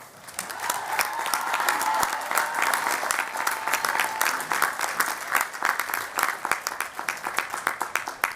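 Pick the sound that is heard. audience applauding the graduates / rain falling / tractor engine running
audience applauding the graduates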